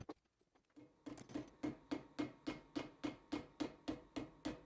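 Steady hammer blows forging a Bowie knife blade, about a dozen sharp metallic strikes at an even rhythm after a quiet start, close and clear with no talking.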